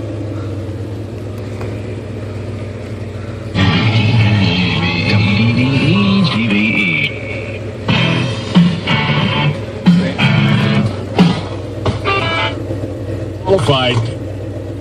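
A 1976 Ford F-250 engine, already warm, runs with a low steady idle rumble that swells into louder revving bursts and dips, with a person speaking briefly over it.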